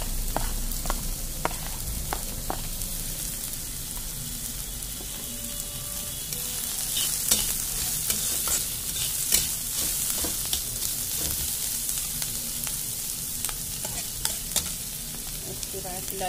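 Onion, cabbage, garlic-ginger paste and spices frying in a pan for spicy sandwich filling, a steady loud sizzle with frequent stirring and scraping throughout, and no voices.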